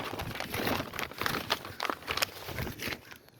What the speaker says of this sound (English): excuse me as I shuffle my papers